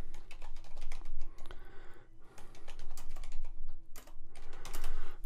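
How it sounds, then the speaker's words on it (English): Fast, continuous typing on a computer keyboard while composing an email in Outlook on the web, dense clattering keystrokes with brief pauses, close and clear without speech. "I'm going to type in another account that I have up on the to line."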